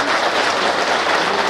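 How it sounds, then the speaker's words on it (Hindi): Crowd applause at a political rally, a loud, close burst of dense clapping from many people sustained evenly throughout. "उसके लिए आप जोरदार एक ताली बजा दीजिए।"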